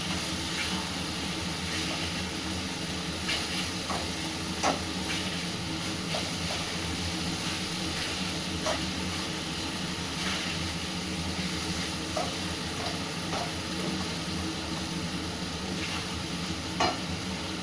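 Fish cooking in gravy in a pan for a Nepali dish, giving a steady close sizzle and bubbling hiss throughout, with occasional faint clicks of stirring.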